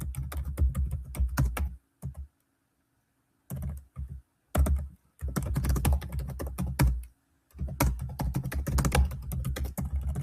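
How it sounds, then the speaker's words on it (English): Rapid clicking of keys on a computer keyboard in several bursts separated by short pauses, close and fairly quiet. "I'm just typing in some info, hitting generate caption"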